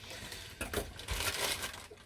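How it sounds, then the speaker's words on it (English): Plastic bag holding Revell AC/DC tour truck model kit parts being opened, a steady crinkling and rustling with louder crunchy bursts midway, close and continuous for about two seconds. "Now, I'm going to open this bag up"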